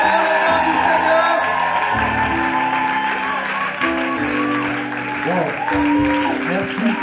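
A church congregation applauds and cheers at a baptism, steady crowd clapping with whoops and shouts filling the space, while singing or a voice carries over the noise throughout.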